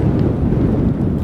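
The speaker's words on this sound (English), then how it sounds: "Now it's a little windy." Wind roars steadily across the microphone while riding an electric bike in cold weather, a loud continuous low buffeting with no voices.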